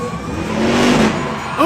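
A monster truck engine revs loud and close during a backflip attempt at a Monster Jam stadium show in San Diego, a steady roaring surge that swells midway and then rises again at the end.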